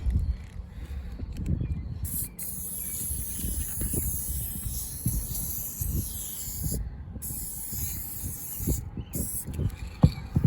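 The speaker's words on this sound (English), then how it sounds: "So I'm just going to spray this now with the primer." Continuous hissing spray from an aerosol can of primer applied to an RV roof, moderately loud and close, with brief pauses and a few small clicks, no voices.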